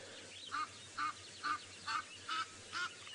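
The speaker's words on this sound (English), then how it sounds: "Now, Gina, you're wondering if these are really geese or are they ducks?" Geese or ducks honking by the water at sunrise, six evenly spaced nasal honks repeating at a steady rhythm, moderately distant over a low hum.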